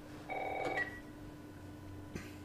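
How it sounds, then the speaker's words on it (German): A telephone rings in the video game The Last of Us: one short electronic ring burst, then a quiet room hum continues. "Telefon! Aufwachen!"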